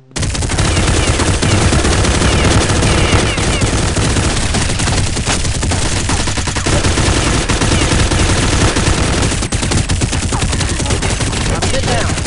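Dense, continuous automatic gunfire from a Counter-Strike zombie mod battle, loud and close, with rapid overlapping bursts running almost unbroken from start to finish.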